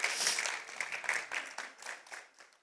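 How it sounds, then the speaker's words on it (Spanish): A church congregation applauds the Lord during a Sunday worship service, with quiet, scattered clapping that thins and fades over a few seconds. "Creo que el Señor merece un aplauso"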